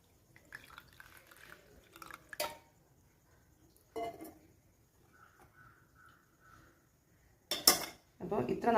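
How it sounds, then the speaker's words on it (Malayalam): Utensils clink and scrape against dishes while a homemade natural hair dye liquid is strained, with sharp metallic knocks at intervals, a few soft dripping taps between them and a louder clatter near the end. "അപ്പോൾ ഇനി നമുക്കിത് പകുതി ഒന്ന് അരിച്ചെടുക്കാം."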